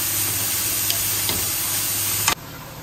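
Carrot frying in hot ghee in a pan gives a continuous close hiss and sizzle with faint ticks, ending abruptly.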